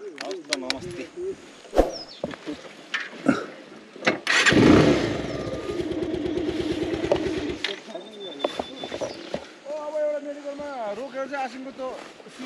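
A motorcycle on an off-road ride in Taplejung, East Nepal, is started and then idles with a steady, close rumble for several seconds, framed by people talking before and after.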